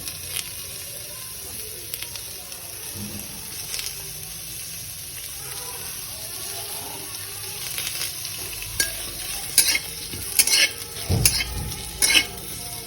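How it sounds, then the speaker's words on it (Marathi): Onion roasting in a pan and being stirred, a low steady sizzle with occasional scraping and clinks of a utensil that grow busier and louder toward the end. "तर हा कांदा मी आता भाजून घेते।"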